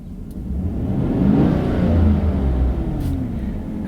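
A 2014 Chevy Silverado V8 with an AIRAID intake revving from inside the cab, a low rumbling engine note that climbs and holds for a couple of seconds before easing back, moderately loud with no talking.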